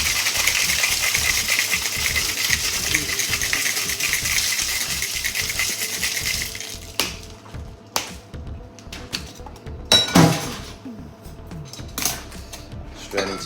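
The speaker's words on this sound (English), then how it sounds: "And give it a good shake." A cocktail shaker full of ice for a Liquid Marijuana tiki drink, shaken hard in a dense rattling rhythm for about seven seconds, then scattered clinks and knocks as it is opened.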